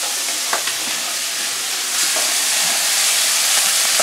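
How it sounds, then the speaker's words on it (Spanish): Prepared butter hits a hot pan of browned shrimp and sizzles in a steady, loud, hissing crackle that swells slightly midway and continues without a break, with no voices. "En este punto es cuando pongo mi mantequilla preparada."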